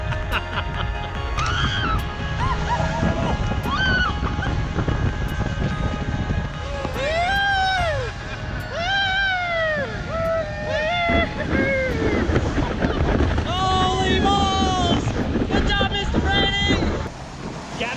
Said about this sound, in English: Brian told me, you know, Rick, we usually try and keep the dinghy away from breaking waves